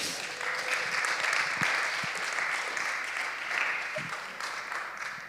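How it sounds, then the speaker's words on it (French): Audience applause welcoming a guest speaker to the front at a French-language talk event on prayer, steady broadband clapping sustained through the whole stretch at moderate level, no talk over it. "on peut l'applaudir."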